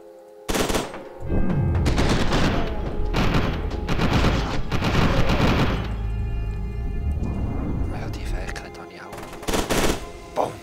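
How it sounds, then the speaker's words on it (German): Gunfire in the shooter game F.E.A.R. 2: loud bursts of shots and booms arrive in clusters, with brief pauses and some sparse talk over them. "Ja, hör mal auf Schüsse, ey."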